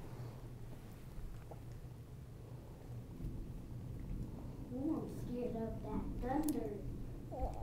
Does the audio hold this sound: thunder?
yes